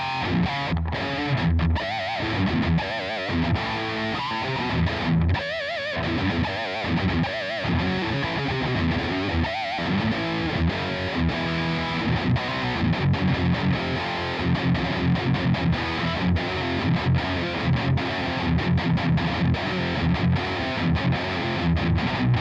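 An electric guitar plays heavily distorted, cranked riffs through a Digitech RP355 multi-effects unit set to a Mesa Boogie Dual Rectifier preset. The chugging, saturated chords are loud and dense, with short choppy stops in the first half.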